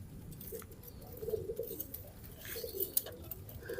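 Pigeons coo softly over a low, steady background rumble, with a few short, repeated calls spread through the clip.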